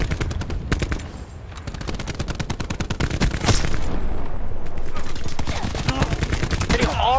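Rapid automatic gunfire from a shooter video game rattles in long, dense bursts, loud and close, with heavier bangs mixed in and a brief voice near the end.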